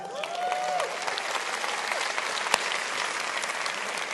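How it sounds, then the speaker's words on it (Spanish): Church congregation applauding, a dense, even patter of many hands clapping throughout, moderately near, with a brief whistle at the start and a single sharp knock midway. "Denles un buen aplauso."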